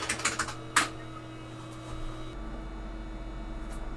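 Keys clack on the keyboard of a restored BC88 computer, a quick burst of several close keystrokes followed by a single firm press, then quiet fan hum.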